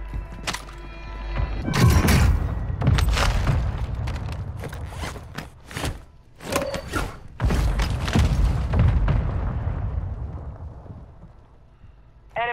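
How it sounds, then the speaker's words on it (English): Mortar rounds strike in Call of Duty: Modern Warfare II as a rapid string of heavy booms and thuds. Several loud explosions crowd together over a few seconds, then the rumbling tail fades away into quieter ambience. "Mortar strike inbound now."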